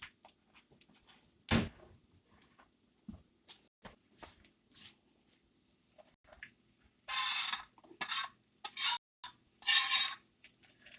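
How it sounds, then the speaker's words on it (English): Mushrooms and onions are tipped into a pan and stirred for chicken Marsala. Scattered clanks and scrapes of a utensil against the pan come first, followed by several loud bursts of rustling stirring. "We're going to add our mushrooms and onions"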